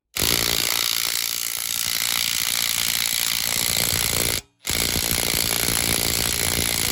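Socket wrench ratcheting while removing a rear ball joint on a BMW E46/E36 at home: loud, continuous harsh mechanical rattling, close up, with one brief pause before it resumes.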